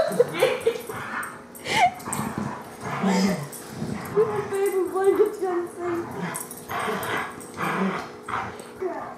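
A border collie indoors gives excited barks, yips and whimpers in uneven bursts while people talk over and between them.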